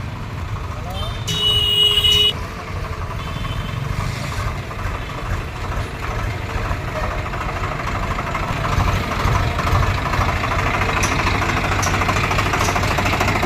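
A motorcycle engine idles with a steady low rumble and some knocking, checked for self-starter motor oil, engine oil seal and gearbox oil seal leaks, with people talking over it and a brief metallic clatter early on.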